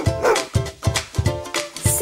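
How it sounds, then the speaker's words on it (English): A bulldog barks in a rapid run of about seven sharp, close woofs at a steady, quick rhythm, loud and alone. "B is for bulldog."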